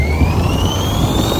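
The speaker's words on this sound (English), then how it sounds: "Customer states, engine sounds like kazoo." A van engine with its wastegate stuck open makes a kazoo-like buzzing whine, a steady rising tone that runs continuously and up close.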